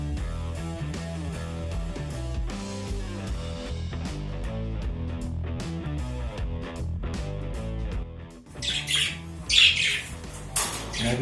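An Australian parrot held in the hand gives a few loud, harsh squawks in the final seconds, rising over steady background music.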